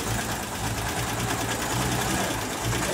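Engine of a 1970 Willys Rural idling after a carburetor adjustment, a steady close rumbling putter with even rapid pulses, loud and unbroken, no speech over it.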